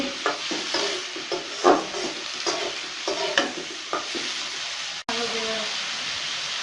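About 400 grams of onions are stirred and fried in oil, with a spatula scraping the pan in repeated strokes over a continuous close sizzle before a brief cut.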